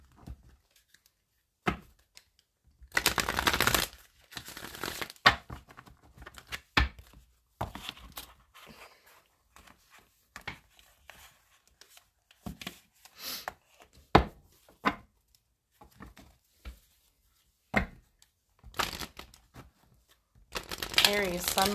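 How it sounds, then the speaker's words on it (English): Oracle cards riffle and slap in several separate shuffling bursts, close and crisp, with short quiet gaps and a voice speaking between them. "We're going to do 3 shuffles."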